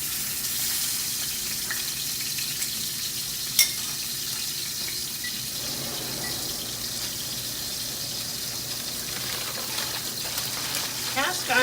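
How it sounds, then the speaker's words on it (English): Meat pies sizzle in a hot cast iron skillet, a steady broadband frying hiss running throughout, with a sharp tap near the start and brighter crackles building toward the end. "we're just going to pop those right down into the cast iron skillet"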